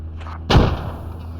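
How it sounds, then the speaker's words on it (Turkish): A rocket launcher fires in the video game Squad, one sharp, heavy thump with a short boom that fades quickly, close and loud over low background hum. "Roket attı tutturamadı gerizekalı."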